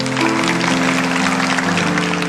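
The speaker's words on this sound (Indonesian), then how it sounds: "Yang percaya kasih tepuk tangan untuk Tuhan." A church congregation applauds during a sermon, a broad wash of steady clapping over sustained instrumental tones from the worship music.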